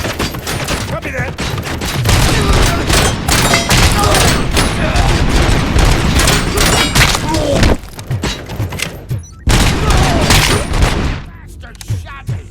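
Heavy gunfire from the RoboCop: Rogue City video game rattles loudly and almost without pause, with dense bursts and thudding impacts under game audio. The firing cuts out briefly and then resumes before fading at the end.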